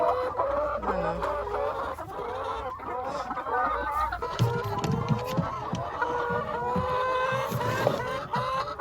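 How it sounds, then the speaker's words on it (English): A large flock of chickens on an egg farm in Jamaica, clucking and squawking constantly, a dense loud chorus close by with scattered rustling throughout. "Never have I ever expected to have this much chicken."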